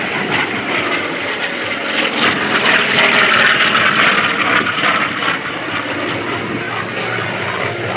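An F4U Corsair propeller warplane roars steadily overhead at an air show, loud and continuous, its engine drone swelling slightly midway before settling back.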